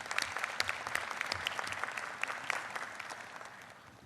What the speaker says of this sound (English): Please, on that note, join me in applauding Azerbaijan's leadership.